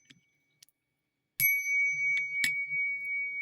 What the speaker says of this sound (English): And I forgot to ring the bell.